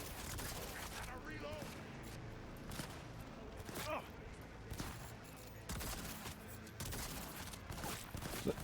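Repeated blasts from a shotgun in the video game Cyberpunk 2077, firing in uneven bursts over a busy, dense game soundtrack, with faint talking in places.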